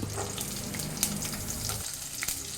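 Mustard seeds, cumin, about fifteen shallots and ten garlic cloves fry in oil in a pan, a soft, steady sizzle with a few faint crackles and stirring sounds.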